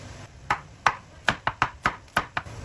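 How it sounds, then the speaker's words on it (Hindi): Green chilies being chopped with a knife on a cutting board in a home kitchen, a series of about eight sharp, close knife strikes at an uneven rhythm over a low background hum, with no voices. "यहाँ पे मैंने ग्रीन चिली ली है, इनकी भी कटिंग करेंगे"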